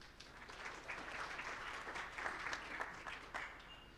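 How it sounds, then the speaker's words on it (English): Warm applause from an audience at a national public policy symposium on basic education, fairly faint and distant, a continuous patter of many hands clapping at an even level. "Warm round of applause."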